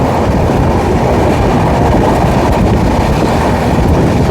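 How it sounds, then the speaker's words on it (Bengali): Humsafar Express sleeper train running at full speed through Dum Dum junction station at night, a loud, steady rumble and rattle of the carriages on the rails with no pause, heard from on board. "দুরন্ত গতিতে এগিয়ে চলেছে আমাদের ট্রেন দমদম স্টেশনের ওপর দিয়ে"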